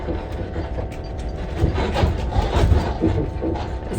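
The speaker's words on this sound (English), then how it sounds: "I just want to show you the noises you hear inside a moving caravan." Rattles, creaks and knocks inside a moving caravan, a dense continuous clatter that swells in bursts, close and busy with no voices.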